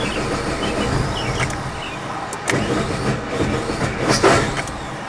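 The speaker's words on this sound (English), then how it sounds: "Now we're going to try and start it." A Suzuki Vitara engine that runs badly and dies when accelerated cranks as someone tries to start it, a steady close mechanical churn with a few louder surges, no talking.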